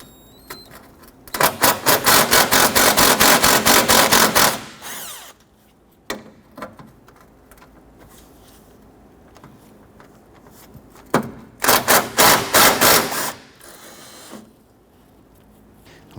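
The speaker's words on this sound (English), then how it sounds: "we're going to go ahead and loosen and remove these two 10mm bolts" A socket wrench loosens two 10mm bolts on a 2006-2014 Honda Ridgeline during an AC condenser replacement, giving two loud bursts of rapid ratcheting clicks separated by quiet pauses.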